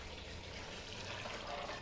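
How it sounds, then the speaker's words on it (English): Cold water poured steadily from a tap into a big pot of rinsed beans, a soft continuous rushing fill heard close and fairly quiet. "I'm going to add 4 cups of cold water to that."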